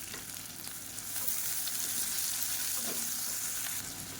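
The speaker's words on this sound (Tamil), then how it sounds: "இது வந்து நல்ல கண்ணாடி பதம் வர அளவுக்கு வதக்கிக்கலாம்" Onions and three slit green chillies sizzle steadily in hot oil with salt for hotel-style tiffin sambar, a continuous close frying hiss with faint stirring, no talking.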